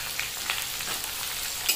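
Chopped onions fry in oil in a pan, alongside dried red chillies and mace, giving a dense, continuous sizzle with faint crackles and a few light spatula taps, close and without voices.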